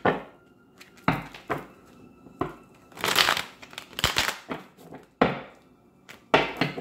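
A deck of tarot cards is shuffled by hand in short, riffling bursts of papery flutter and snaps, separated by quiet pauses, close and fairly soft.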